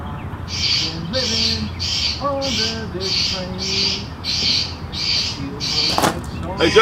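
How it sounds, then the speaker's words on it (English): A bird squawks over and over in a steady, evenly spaced rhythm, loud and close, while someone talks underneath. "I can't hear for this bird."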